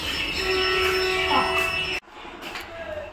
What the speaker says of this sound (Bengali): বেশ ভালো স্পিড টেনেছে ট্রেনটা